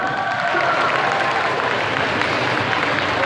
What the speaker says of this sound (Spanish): ¡Un aplauso para Mariana!